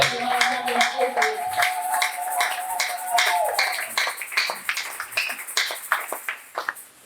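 A church congregation claps during a French-language deliverance and healing service, a lively mix of hand claps with cheering voices that taper off toward the end.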